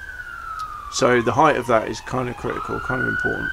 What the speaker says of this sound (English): excuse the sirens going past